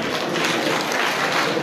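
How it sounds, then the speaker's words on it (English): An audience at a youth empowerment graduation ceremony applauds in a brief, dense burst of clapping, steady and fairly loud from a large crowd. "Please clap for Jefferson."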